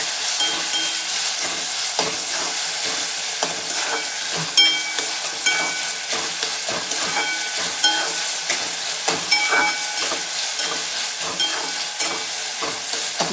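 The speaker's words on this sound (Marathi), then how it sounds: "टोमॅटो टाकून घेते आणि ते सुद्धा छान मऊ परतून घेते" Chopped tomatoes sautéing in a pan for a wild leafy-greens dish, a steady close sizzle with repeated scraping stirs of a spoon throughout, no voices.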